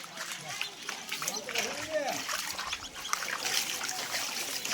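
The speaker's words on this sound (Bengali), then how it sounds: "দেখলাম, এই ঘরটা থেকে জলটা বেরিয়েছে দেখো।" Floodwater trickles and splashes as it flows out of a flooded house after a neighbourhood pond overflowed, a steady watery dribble under a person talking and a bird chirping nearby.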